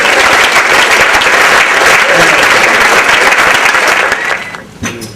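A dinner audience at a BWEA 2002 event gives a loud, dense round of applause that holds steady for about four seconds, then tapers off quickly to a few scattered claps.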